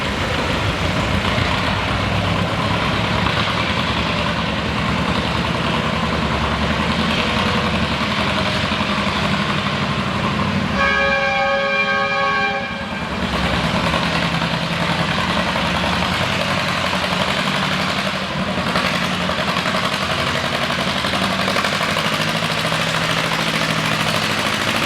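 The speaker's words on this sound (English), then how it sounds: "Tractor pull, ladies and gentlemen" A classic tractor at a tractor pull drags a sled with a loud, steady engine drone that never lets up. A brief whistling tone cuts in partway through.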